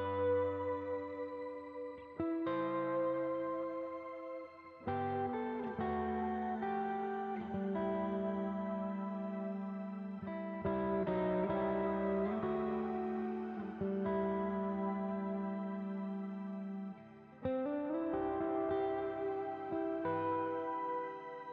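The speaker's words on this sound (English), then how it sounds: "This adds an additional reverb tail on top of the signal that is pitched an octave" Electric guitar through a shimmer reverb effect whose tail is pitched an octave higher, sustained chords ringing out with a bright, swelling wash that changes every few seconds, no talk.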